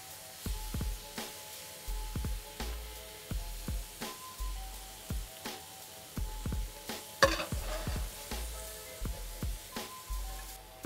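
Egg stirred into rice in a frying pan, with a steady rhythm of spatula scrapes and knocks over a soft sizzle, close and moderately loud, with no talking.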